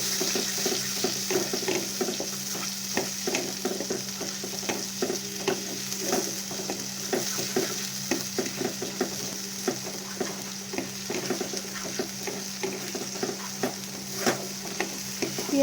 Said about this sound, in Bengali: পেঁয়াজটাকে একটু ভালো করে তেলে ফ্রাই করে নেবো।